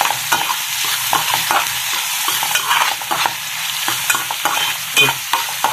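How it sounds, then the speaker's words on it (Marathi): Onion, garlic and green chili sauté in hot oil with a steady close sizzle, while repeated stirring strokes scrape the pan throughout, with no voices. "तेल, लसूण, मिरची आणि कांदा ॲड केला आहे. त्याच्यानंतर तो व्यवस्थित असा परतायचा आहे."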